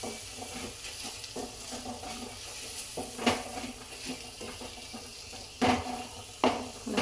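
Ground spice powder being stirred into hot oil for a Telugu-style masala eggplant curry, with a soft steady sizzle and scraping stirs plus a few sharper clinks of the spoon against the pan, and no talking.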